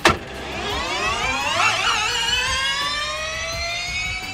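Fully electric Formula E race car speeding past with a high whining electric motor tone that rises and sweeps in pitch, loud and close, with a sharp thump at the start and no voices.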